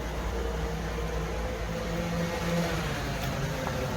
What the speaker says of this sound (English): there's a constant flow of traffic full of scooters,